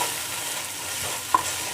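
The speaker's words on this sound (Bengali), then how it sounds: "পেঁয়াজটা ভাজা হয়ে গেছে" A small batch of onion paste frying in oil in a pan, with a soft, steady sizzle and one brief scrape of stirring.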